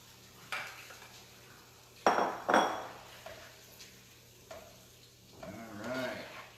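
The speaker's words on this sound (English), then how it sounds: "So we're going to go ahead and add our shrimp in there" Cooked shrimp going into a pan of scampi sauce, heard as a few quiet, separate clinks and scrapes of a utensil against the pan, with faint sound between them.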